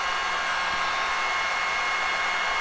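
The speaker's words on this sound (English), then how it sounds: "So we're going to dry this small edge of my canvas." A hair dryer blows steadily and loudly close by, drying acrylic paint on a small canvas edge, a constant whooshing roar with no talk.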